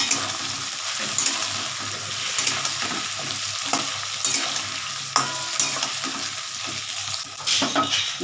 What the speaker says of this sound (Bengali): এবার আমি কুমড়ো বেগুনটা দিয়ে দিচ্ছি বেগুনটা দিয়ে একটু নাড়াচাড়া করে নিই